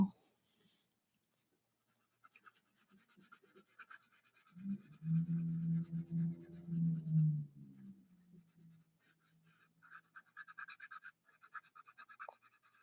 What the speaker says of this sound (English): Luminance pencils feel kind of weird on this paper